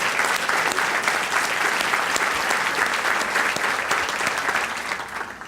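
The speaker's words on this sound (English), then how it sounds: "Let's give them a round of applause for all the hard work" Steady, loud applause from a gathered audience at a Chicago Public Schools event, honoring staff members who have been asked to stand, sustained evenly for several seconds with no speech over it.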